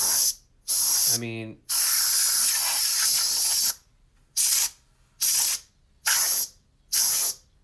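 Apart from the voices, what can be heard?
compressed air spray blowing dust out of a PS4 grill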